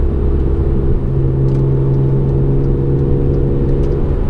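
Close, loud engine of a Genesis Coupe BK2 with a short shifter droning steadily through a gear change at red line, a sustained mid-low hum with a brief dip near the start and no talk.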